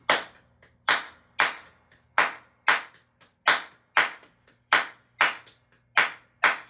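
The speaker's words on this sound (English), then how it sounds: "Let's try clapping it first." Hands clap a 3+2 rhythmic pattern during a music and dance lesson, about a dozen crisp, close claps grouped three then two, with short silences between.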